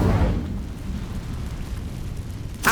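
Incendio fire spell cast in Hogwarts Legacy, a short whooshing burst opening loud, fading into a low rumbling roar, then a brief sharp flare near the end.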